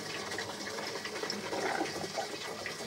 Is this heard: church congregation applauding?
no